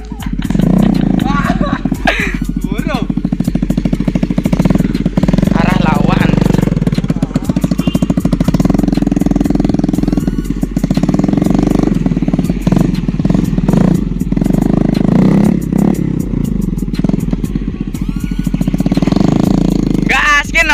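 Vespa scooter engine revved hard and repeatedly, a loud rattling, buzzing two-stroke roar that rises and falls, with people talking and shouting over it close by.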